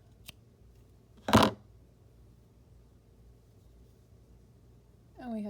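Scissors make a single quick, crisp snip through crochet yarn close by, preceded by a faint tick and followed by quiet, with a voice starting at the end.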